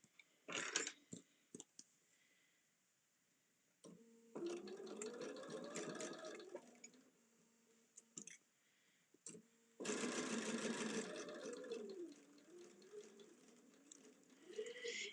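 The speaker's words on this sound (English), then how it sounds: "And now I'm going to sew down this side." A sewing machine stitches a quilt seam on a LeMoyne Star block in two bursts of running mechanical whir, separated by pauses with clicks and handling noises, close and moderately quiet.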